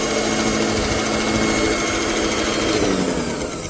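A sewing machine stitches a long strip of cloth with a continuous, fast, even whirring hum, loud and close, with no talk.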